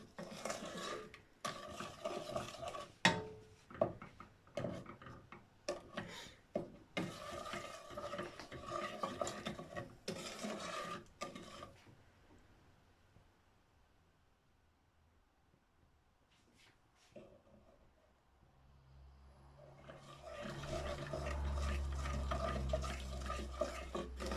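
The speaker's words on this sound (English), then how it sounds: "Just bringing this like this butter to be completely melted before I add the oats." A spoon stirs butter melting in a pan for flapjacks, with quick rhythmic scraping and clinks close by, a quiet pause midway, then a low steady sizzle-like hum rising toward the end.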